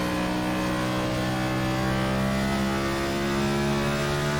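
A NASCAR stock car engine in the iRacing game drones loud and constant, holding a steady high hum as the throttle eases up, with no talking.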